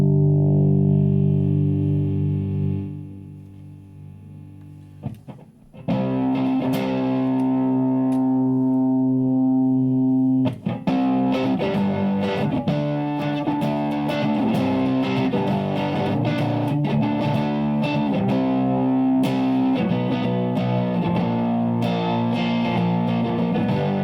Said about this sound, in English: We're going to hit gain. That way we get more distortion from the signal and give us that rock sound that we want.